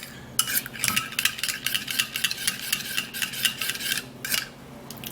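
Ginger and olive oil stirred together in a small bowl for a homemade hair mixture: a spoon clinks and scrapes against the container in quick, uneven strokes, close and fairly soft, with no talking.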